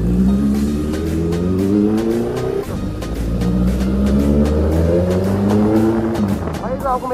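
A superbike's engine revs loudly and close up, its pitch repeatedly climbing and dropping back in steady surges, with people talking over the roar.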